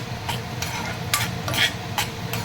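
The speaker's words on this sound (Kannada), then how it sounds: "ನೋಡಿ ಸಾಸಿವೆ ಜೀರಿಗೆ ಆದಮೇಲೆ ಒಂದು ಸ್ವಲ್ಪ ಕಡಲೆಬೇಳೆ ಹಾಕ್ತಾಯಿದ್ದೀನಿ." Chana dal tossed into hot oil with mustard and cumin seeds, sizzling steadily under repeated stirring scrapes for onion palya, with no one talking.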